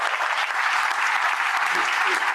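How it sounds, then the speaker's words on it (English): An audience at a horror film festival applauds new suppliers, a steady, even wash of many hands clapping at moderate volume with no pauses. "Round of applause again for our new suppliers."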